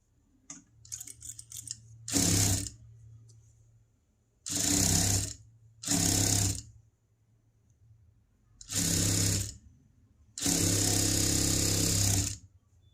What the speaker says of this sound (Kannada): ಸೊ ಇದನ್ನು ಈ ಥರ ಫೋಲ್ಡ್ ಮಾಡಿಕೊಂಡು ಸ್ಟಿಚ್ ಹಾಕೊಳ್ಳೋಣ